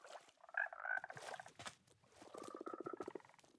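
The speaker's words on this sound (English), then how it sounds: "they can croak if you're listening" A Minecraft frog croaks in a couple of soft, low, throaty bursts, the second a rapid rattling croak, close and quiet with no talking.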